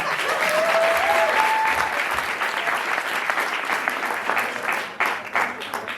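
An audience at a shortform improv comedy show breaks into loud, dense applause that holds steady throughout, with a faint voice briefly audible underneath early on.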